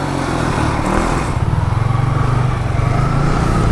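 A motorbike engine runs close and loud, at first a rough, steady drone and then a rapid, even putter of firing pulses that holds through to the end.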